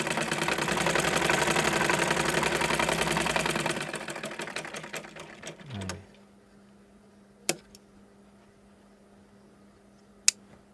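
A sewing machine runs steadily for about four seconds while stitching elastic onto pajamas, then slows and stops, followed by a few faint clicks and two sharp taps in near silence.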